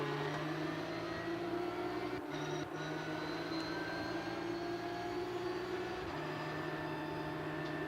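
A loud, steady engine drone heard on board a racing car at Interlagos during a 500km race behind the safety car, with a couple of brief dips in pitch, continuous and close.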